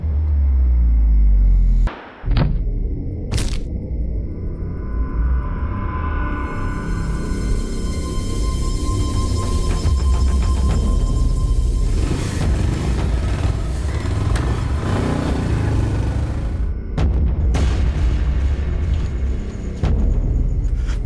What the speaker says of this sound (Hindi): गोलियां चलने की आवाज आई।